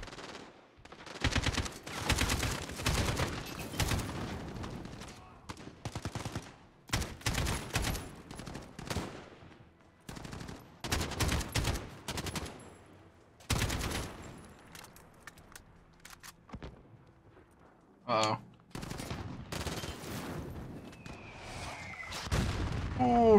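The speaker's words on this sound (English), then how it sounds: "Okay, where's the mortar?" Repeated bursts of mortar and small-arms fire in the Call of Duty: Modern Warfare campaign, loud broadband blasts coming in clusters with brief gaps between them, plus a sharp whistling streak near the end.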